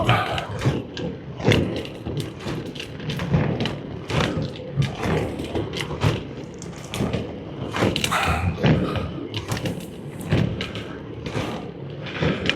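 Skates rolling over crushed shells on a seaside path, giving repeated crunching thuds and scrapes over wind noise, close and uneven.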